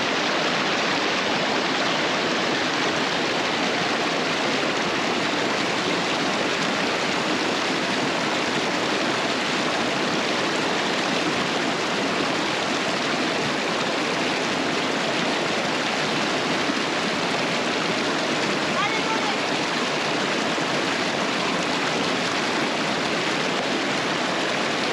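A river rushes steadily along a hiking trail in the Peruvian Amazon, a dense, continuous wash of flowing water that stays loud and close throughout with no pauses.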